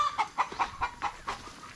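Chickens clucking close by, a quick, steady run of short, bright clucks with a few louder calls mixed in, over a soft background hiss.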